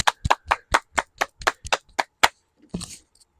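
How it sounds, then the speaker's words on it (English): A small group claps about a dozen sharp, separate beats, close and fairly loud, after a request for applause for a World Cup team; a brief muffled noise follows near the end. "Can we give a round of applause, bro?"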